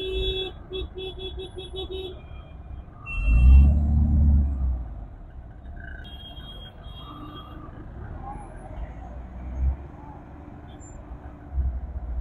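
Road traffic surrounds a moving motorcycle, with a low engine rumble, a heavy vehicle swelling past loudly, and scattered horn beeps and buzzer tones, while people talk over the noise.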